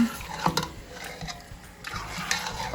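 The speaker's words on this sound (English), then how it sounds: "And I'm going to like give it a good stir. Mix it very well with the ginger, garlic, onion," A spoon stirs ginger, garlic and onion in a pot while cooking biryani, with soft scraping, a couple of clinks against the metal and light sizzling, fairly quiet and without talk.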